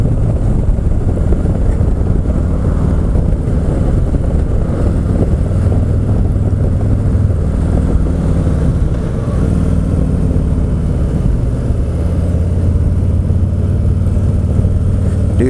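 A Harley motorcycle rumbles steadily at speed along the interstate, a dense, low engine drone mixed with heavy wind noise, close and continuous without speech.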